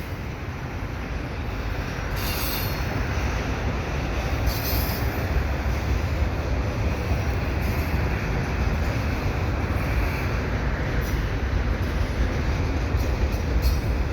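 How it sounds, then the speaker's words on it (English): An intermodal container freight train rumbles past close by at Dorval in a steady, loud roar of rolling wagons and clattering wheels, with faint squeals and no voices. "Now this is usually an all intermodal train."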